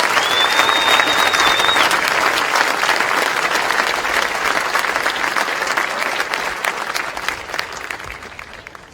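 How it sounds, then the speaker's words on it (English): A large audience applauds steadily for the winners at a Georgetown Preparatory School prep awards ceremony, dense clapping sustained and slowly thinning toward the end, with a brief whistle near the start. "A round of applause for all the winners of the prep."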